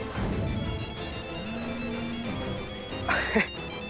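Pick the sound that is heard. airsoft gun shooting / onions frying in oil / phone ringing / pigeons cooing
phone ringing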